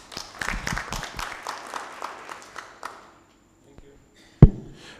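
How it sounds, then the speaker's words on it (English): An audience at a general meeting in a hotel in Nairobi claps after a speaker finishes, a lively burst of applause that thins out and fades to near silence, followed by one sharp loud knock. "Let's clap for him well, proper"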